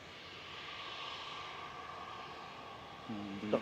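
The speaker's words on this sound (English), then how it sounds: "Off to Berlin, 737-800, flight 1145 for Ryanair." Ryanair Boeing 737-800 jet departing Manchester for Berlin, a faint distant engine rumble and whine held steady, with a brief voice-like tone entering at the very end.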